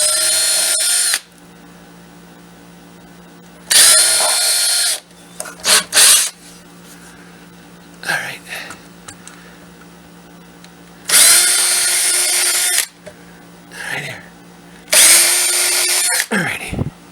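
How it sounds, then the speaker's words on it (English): A power drill whines in several loud bursts of a few seconds each while drilling mounting holes for a DC-powered switch machine, separated by quieter pauses with softer handling noises. "Drill these 4 holes here."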